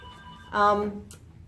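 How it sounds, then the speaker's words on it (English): A telephone rings in a needlework shop after hours: one short electronic ring burst, near and moderately loud, over faint room noise. "our phone's ringing"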